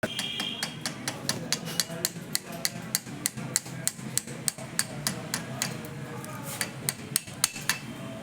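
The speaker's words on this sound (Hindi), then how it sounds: "पीछे से छोटी पतली अपन हथौड़ी भी ले सकते हैं और हल्का हल्का पीछे से मारते जाते हैं" A small, thin hammer taps lightly and repeatedly at the back of the copper winding coils of a three-phase submersible motor. The sharp metallic ticks come at a quick, steady rhythm, close and clear, with no talking.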